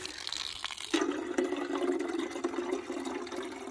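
Fresh water running from a tap at a campsite into a container being filled, a steady close pouring rush that starts abruptly and continues, no talk.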